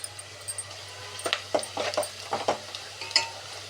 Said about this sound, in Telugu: ఇలా ఈ విధంగా కలర్ చేంజ్ అయ్యేదాకా వేపుకోవాలండి